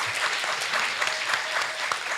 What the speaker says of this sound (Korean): 다시 한번 저희 박수 주시면 조금 긴장이 풀릴 것 같습니다